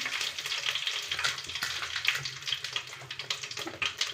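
Curry leaves dropped into hot oil with cumin while making a ridge gourd stir-fry, a steady, crackling sizzle with bright spitting pops that runs continuously and close up, with no talk over it.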